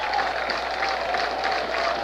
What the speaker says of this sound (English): Crowd getting into it here.